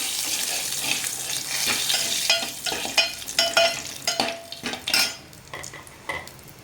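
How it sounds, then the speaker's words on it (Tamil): Curry leaves frying in hot oil in a pan while a vegetable poriyal is prepared, a steady close sizzle broken by several sharp stirring and clinking strokes of a utensil against the pan. "கருவேப்பிலை நல்லா பொரிஞ்ச பிறகு"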